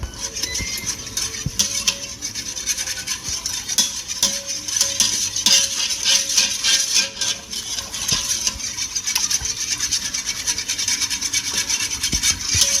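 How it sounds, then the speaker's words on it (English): Chicken taco soup stirred with a utensil inside a pressure cooker on the sear setting, a steady continuous scraping and rubbing against the pot alongside a faint sizzle, close and moderately loud throughout. "give that a little stir"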